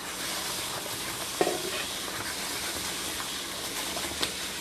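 Spaghetti being stirred in a pot on a hot stove, a steady sizzling bubble with light scraping from the stirring and a couple of small knocks against the pot.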